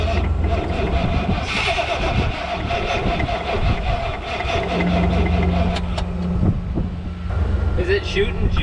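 A 1993 GMC 1500 pickup that sat unused for ten years cranks and catches, its engine rumbling unevenly, then settling into a rough idle as people talk nearby.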